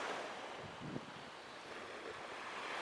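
A soft, continuous wash of ocean waves rolling ashore at Grand Turk, with faint wind noise and no voices.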